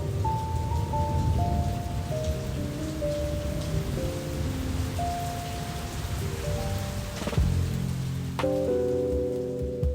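Steady rain pours on surfaces throughout, a continuous hiss used as a radio drama sound effect, mixed under a low sustained musical drone with shifting tones and a sharp crack near the end.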